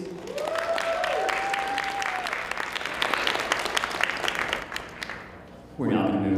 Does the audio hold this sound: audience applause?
yes